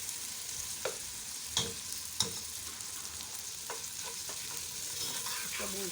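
Potato and eggplant frying in masala give a steady, faint sizzle, broken by a few sharp clinks and scrapes of a spoon stirring the pan.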